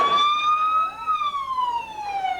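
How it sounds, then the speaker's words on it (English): Emergency siren wailing in a clear, loud tone that rises and then slowly falls across a couple of seconds, with a second layered tone sweeping alongside it and little else in the background. "No, the sirens."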